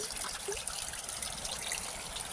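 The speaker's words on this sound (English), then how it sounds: "that spring is still going quite hard actually" Spring water trickling steadily into a pond outdoors, a soft continuous babble heard from a short distance with no voices over it.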